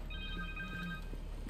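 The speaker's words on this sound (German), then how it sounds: "Telefon!" A phone rings in the Spider-Man 2 video game, a steady electronic ringtone that sounds fairly faint over a constant background hum.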